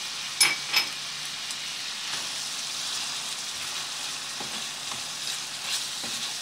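Chopped onions sauté in a pan for a chicken dish, giving a steady, even sizzle throughout, with a couple of faint clinks of stirring near the start and no voices over it.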